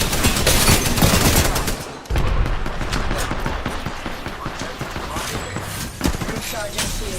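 Apex Legends gunfire during a firefight: rapid bursts of automatic shots crackle continuously at close range, with a brief lull and a sharp hit partway through, layered under game sounds and a voice speaking.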